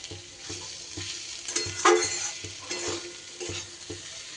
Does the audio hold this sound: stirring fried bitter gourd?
yes